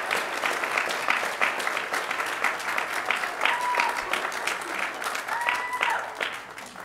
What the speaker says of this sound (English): Let's give Maggie a round of applause.